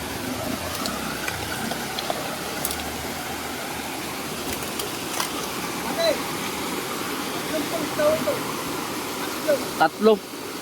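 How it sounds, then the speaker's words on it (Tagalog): Steady rushing water from a waterfall on the Agos River in General Nakar fills the clip, a broad continuous roar with faint voices and brief sounds near the end. "Tatlong waterfalls."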